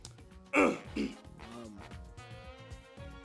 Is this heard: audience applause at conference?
no